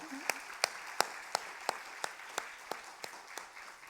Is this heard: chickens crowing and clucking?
no